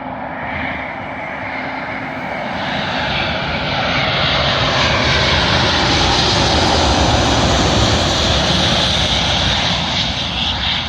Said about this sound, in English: Arriving in now, completing 4 of 4, is a Turkish Airlines Airbus A350 working a service from Istanbul